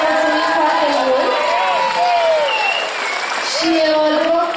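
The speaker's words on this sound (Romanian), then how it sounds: "Vă rog să mai aplaudați încă o dată." Applause from an outdoor festival audience, a steady wash of clapping with some cheering, while someone speaks loudly over it through a PA.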